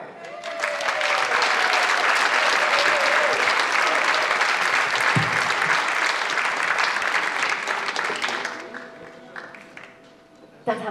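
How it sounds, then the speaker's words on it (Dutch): A large audience claps loudly for a singer being introduced at a bridal fashion event: sustained, full crowd applause that holds strong before thinning into scattered claps near the end. "Mag ik even een groot applaus voor een hele bijzondere muzikale dame"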